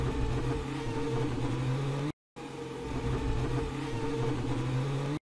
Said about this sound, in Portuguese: o terceiro barulho, que é quando a roda traseira esquerda do Hülkenberg bate na roda traseira direita do Bortoleto